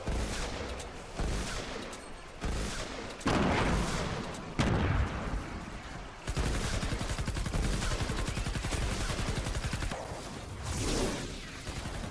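Gunfire from a long-range, sniper-class pump shotgun in Fortnite's Save the World mode, heard as dense, loud blasts and bursts of game combat that run in sections with abrupt cuts, and no voice over them.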